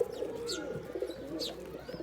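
Giribaz pigeons kept in pairs at a Rajshahi loft coo in repeated low, throaty rolls, punctuated by two sharp chirps, nearby and fairly clear.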